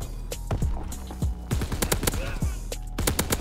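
A KG M-21 gun fires in Call of Duty WW2, loud rapid bursts of sharp close shots in quick succession with brief gaps between volleys.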